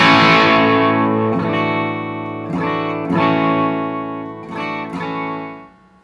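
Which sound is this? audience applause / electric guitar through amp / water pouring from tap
electric guitar through amp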